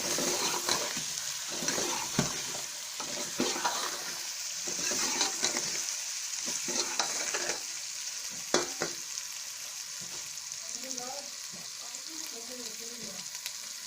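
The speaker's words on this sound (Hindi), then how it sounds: "इसको हम मिक्स कर लेंगे।" Chickpeas frying in a pan with salt, stirred steadily: a continuous hiss of sizzling oil with repeated scraping strokes of a spoon against the pan, close and fairly loud, with no talk.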